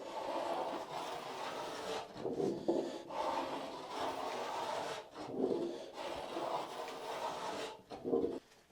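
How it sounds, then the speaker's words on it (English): A planer shapes the rail of a Verdure surfboard blank in repeated rasping passes, each stroke a few seconds long with short breaks between, fairly faint and close. "I'm basically going to start my planer from about here"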